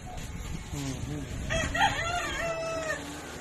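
A gamefowl rooster crows loudly on a game farm, its rising and falling call standing out over a steady background din, with faint chatter around it.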